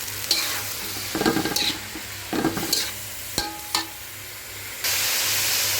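Bottle gourd leaves from a rooftop garden stir-fry in oil, with separate loud scraping and tossing strokes from a spatula, then a steady hissing sizzle near the end.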